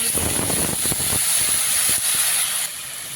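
Water poured into a hot pan of cooking fish sets off a loud, close, continuous steamy sizzle and hiss that holds steady, then drops to a quieter simmer near the end, with no talking.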